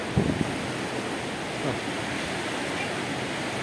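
River water from the Ain al-Fijeh spring rushes in a steady, dense broadband wash close by, continuous and fairly loud with slight wind buffeting and no talking.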